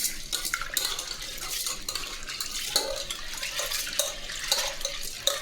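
Water sloshing as lentils are swirled by hand in a metal bowl, with light clinks and rustling, close and continuous.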